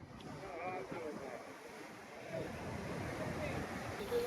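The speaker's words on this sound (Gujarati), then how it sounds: "આ દરિયાના મોજા તો જો" Sea waves wash and break in the distance under gusty wind on a stormy sea at Shivrajpur beach, Dwarka, with a low rolling surge building toward the end.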